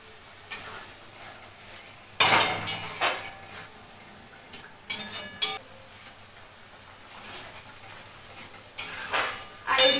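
Spices are being cooked and stirred in a pan with cumin seeds, chilli, turmeric and salt. A metal spoon scrapes and clinks against the pan in repeated bursts over a soft sizzle.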